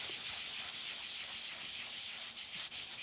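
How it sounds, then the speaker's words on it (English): A Rubit Scrubit tool rubs across a surface to clear away excess gilding flakes, giving a steady, close, hissing scrub that continues without pause, with a few brief dips in level. "And the Rubit SCRUBIT will refine that and just remove all the extra bits to that"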